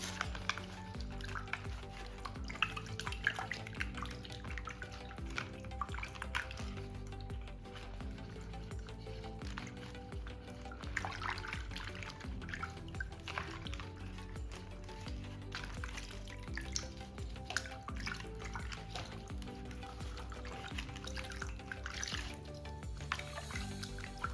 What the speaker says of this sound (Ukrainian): От я вже розвела воду з содою і зараз буду їх промивати.